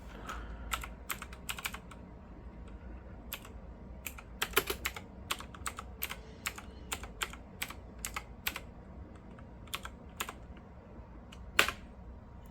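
Computer keyboard typing into the Call of Duty game console: scattered, irregular clicks in short bursts over roughly twelve seconds, close and fairly quiet, with no voices.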